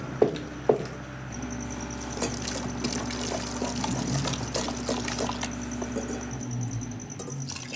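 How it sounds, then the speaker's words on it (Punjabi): Continuous splashing and trickling of water running into a pressure cooker for cooking saag, steady and fairly close, with a few clinks near the start and no voices. "ਇਹ ਵਾਲਾ ਪਾਣੀ ਵੀ ਆਪਾਂ ਇਹਦੇ ਵਿੱਚ ਪਾ ਦਿੱਤਾ ਹੈ"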